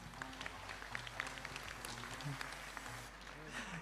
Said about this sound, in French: Ah bah bravo, on peut l'applaudir très fort.